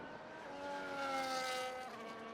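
Video game F1 race car at Monaco gives a faint high engine whine that climbs and swells for about a second, then eases off, heard alone without talk.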